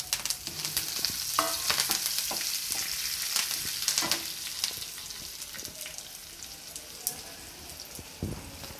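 Cashews, curry leaves and dried red chillies frying together in hot oil for coconut rice, a steady dense sizzle with crackling pops and occasional stirring clicks throughout, no talking.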